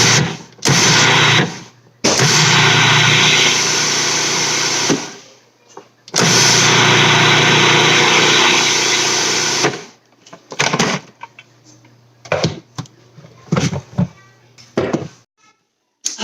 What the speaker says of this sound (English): You can look at the texture and decide how much you want to grind it.